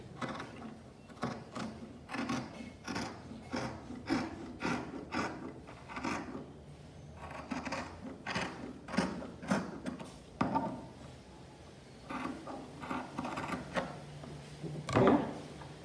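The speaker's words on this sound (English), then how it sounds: "I'm going to cut it." Scissors cut a sleeve pattern out of fabric, a series of close, soft snipping and rustling strokes in uneven rhythm with short pauses, quiet and without talk.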